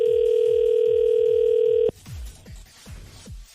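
A telephone dial tone hums loud and steady while a phone is being called, then cuts off abruptly, leaving quieter room noise with rhythmic low thumps throughout.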